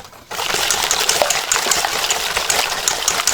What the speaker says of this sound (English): Add your lemon juice and give that a good whisk.